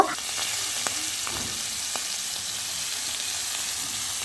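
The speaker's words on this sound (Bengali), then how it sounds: "এখন আমি ফুলকাগুলো ভেজে নিব" Cauliflower florets fry in a wok, a constant crackling sizzle with a few sharper pops, close and moderately loud, with no talking.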